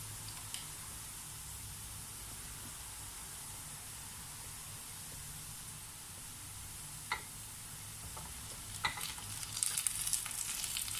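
Chicken feet fry in a pan for curry, giving a steady broadband sizzle and hiss, with a few faint scrapes and clinks of stirring near the end.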